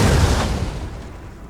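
A 5-pounder howitzer firing in Napoleon Total War, a single close, loud boom with a quick rumbling decay over about a second.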